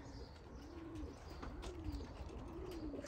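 Young racing pigeons returning to their loft after a 125 km training flight coo softly and steadily, with faint bird calls and light rustling around them; no one speaks.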